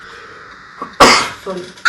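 A single sharp sneeze bursts out during an indoor brainstorming meeting, close and loud, with brief speech just before and right after.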